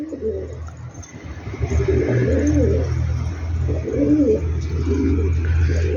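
Pigeons in a coop give repeated deep, throaty coos in a steady rhythm, close and fairly loud, over a low background hum and occasional faint chirps.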